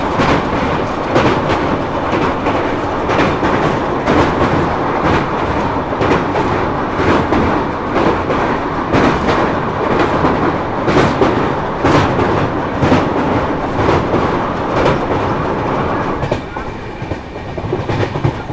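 Crowded passenger train of the 12822 Dhauli Express, Puri to Kolkata route, at Bhubaneswar railway station: a loud, steady rumble of railcars with clickety-clack rhythm and clatter throughout, easing slightly near the end.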